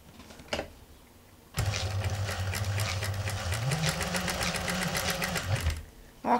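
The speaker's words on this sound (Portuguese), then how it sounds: "a gente vai costurar nessa lateral" A sewing machine stitches along the side of a patchwork block in a fast, steady mechanical whir lasting about four seconds, loud and close, with brief handling clicks before and after.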